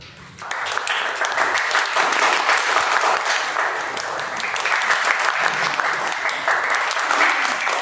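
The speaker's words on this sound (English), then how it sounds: "I want to hear the applause going to the highest as well" A room of Toastmasters club members applauds during an in-person meeting sound check. Loud, dense clapping swells in quickly and holds steady for several seconds.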